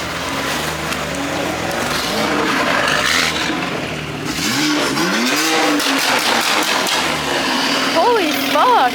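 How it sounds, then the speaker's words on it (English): A BMW M4 at a car meet revs hard, its engine climbing and falling in loud, sweeping pulls up close, with voices and crowd noise underneath. "Damn, that M4 sounds crazy though."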